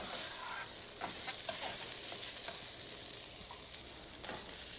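Sausage fries in a pan with a steady, close sizzle and crackle, punctuated by occasional stirring and scraping clicks, with no talk.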